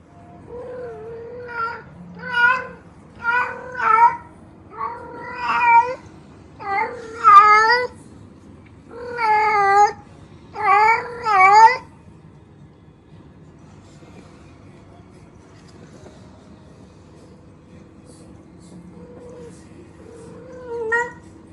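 A cat in heat yowls in a series of long, drawn-out wails, about a dozen loud cries in the first half, then quiet with a faint final call.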